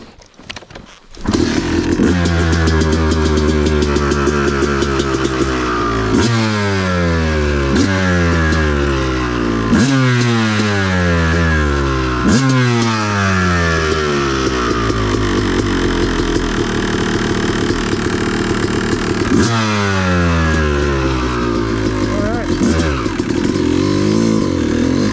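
A Yamaha YZ250 dirt bike rides a woods trail at Wambaw, its engine loud and close throughout, with repeated rising revs and shifts through the gears as it accelerates, then briefly settling lower.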